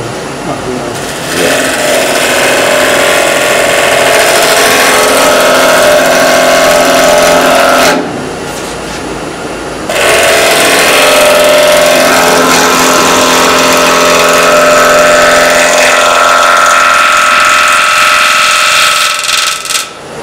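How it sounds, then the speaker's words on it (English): A wood lathe turns a footed bowl while a gouge cuts it, giving a loud, steady whirring grind that runs most of the time, breaks off briefly midway and then starts again. "You're using the same gouge the whole time, John, eh?"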